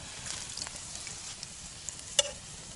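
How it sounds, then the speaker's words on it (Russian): Potatoes sizzle and crackle in a hot saj pan, a soft steady frying hiss with a few sharp pops and scraping stirs. "Жареная картоха. В садже."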